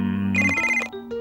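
A cartoon telephone rings in a single short, bright electronic burst over a sustained musical tone from a children's animated show.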